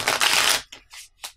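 Playing cards being shuffled at a tabletop game session: a dense riffling burst for about half a second, followed by a few softer, brief card flicks and taps, close and alone without talk.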